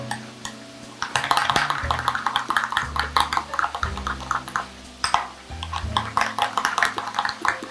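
Crab cake sauce being mixed in a bowl, a utensil clinking and scraping against the bowl in quick, rhythmic strokes with short pauses, close and fairly loud over faint background music.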